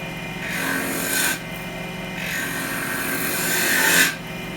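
A skew chisel cuts a spinning wooden egg on a woodturning lathe, forming its beaded bottom: a steady close scraping rasp that swells into two louder passes before easing off.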